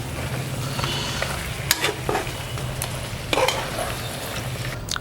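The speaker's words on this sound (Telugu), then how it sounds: "వేసుకొని వీటన్నింటినీ బాగా కలుపుకుందాం" Chicken gravy with yogurt being stirred in a pan, a low continuous sizzle under soft scraping and occasional sharp clicks of the spoon against the pan, steady and close.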